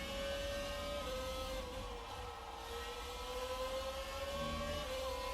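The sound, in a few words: F1 car engine revving up in F1 2019 video game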